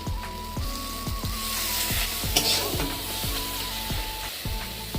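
Tomato chutney cooks in a pan with a constant close sizzle and light bubbling, set against looping background music with a steady repeating beat.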